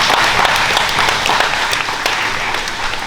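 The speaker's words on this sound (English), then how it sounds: "you can give yourselves a round of applause" Indoor audience at a jiu-jitsu grappling event breaks into loud, dense applause, continuous clapping sustained throughout with scattered sharper claps standing out.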